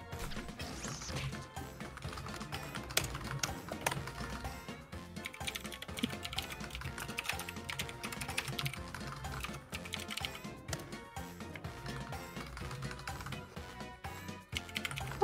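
Rapid, steady clatter of computer keyboard typing continues for the whole stretch at moderate closeness, busy and dense, with a few sharper key strikes, during a Jackbox party game session.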